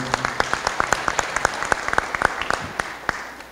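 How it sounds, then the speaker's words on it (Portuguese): Scattered applause greets a guest at a party debate in Sobradinho, with distinct individual claps ringing out at an uneven pace, moderately close, and thinning toward the end. "Pedir uma salva de palmas aqui para o companheiro."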